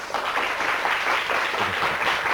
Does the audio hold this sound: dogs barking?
no